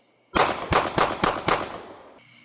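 A Glock 19x pistol fires five rapid, loud, sharp shots at an even pace outdoors, each crack trailing a short decay before quiet returns.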